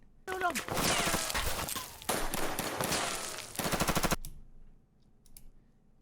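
Real gunfire on an action movie set, with live rounds ejecting shell casings: dense bursts of rapid automatic shots and loud cracks for about four seconds, broken by a short gap, then a sudden stop into quiet.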